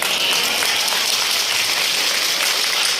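A large crowd at the Pathsala Raas Mahotsav festival claps continuously, giving a dense, steady wash of applause at a constant level with no speech over it; whistles are not clearly picked out.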